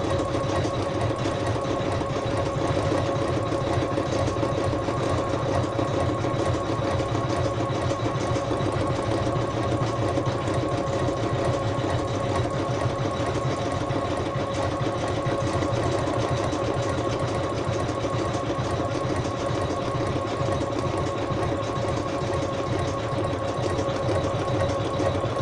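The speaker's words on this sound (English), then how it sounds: "And now it should do the blanket stitch over the top of" An embroidery machine stitches a blanket stitch over a bed appliqué in a Sue Bonnet Sue bedtime design, a continuous, close, rhythmic mechanical whirr and needle chatter holding at steady loudness throughout.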